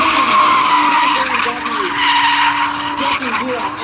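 A low-powered BMW E36 drifting in competition sends out a loud, sustained tire squeal with wavering pitch, holding the slide through the corner alongside engine noise.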